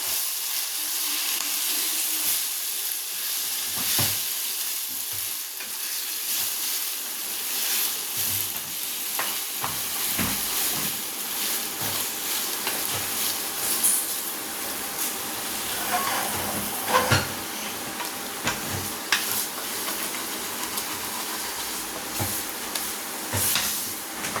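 Ginger thokku sizzles steadily in a pan while being stirred, a constant loud frying hiss broken by scraping spoon strokes, with no talking over it.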